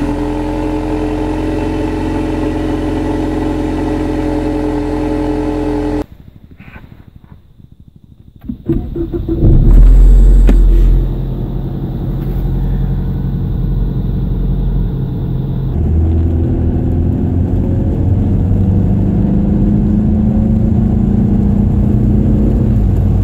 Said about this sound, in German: So, dann kommen wir mal zum Motorsound.